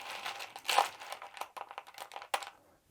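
Rumor cards for the board game Shadows of Brimstone get shuffled in a draw cup, a dry papery rustle and scraping at close range, with a burst of crisp clatter and a few short scuffs trailing off.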